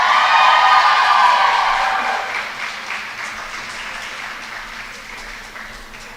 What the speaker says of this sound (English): One more big round of applause for all of our seniors and their families.